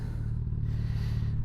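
A motorbike in neutral, pushed or ridden up a ramp into a house, with a steady close low engine idle rumble running throughout, unbroken and fairly loud.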